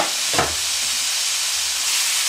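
Pre-cooked food sautéing in a pan with salt, pepper and garlic powder, giving a steady close hiss and sizzle throughout, with a brief louder scrape or stir near the start.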